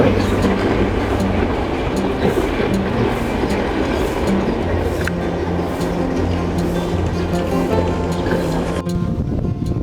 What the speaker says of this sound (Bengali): সেই রেল লাইন দিয়ে ট্রেন যাচ্ছে দেখুন